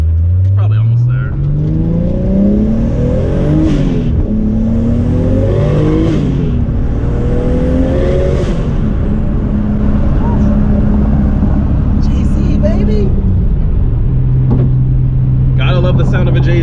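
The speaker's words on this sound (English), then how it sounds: "Love the sound of a JZ." A Toyota JZ engine in a racecar idles and revs loudly up close, climbing through several rising pulls with turbo spooling whistles before settling back to a steady idle, with voices audible under the engine.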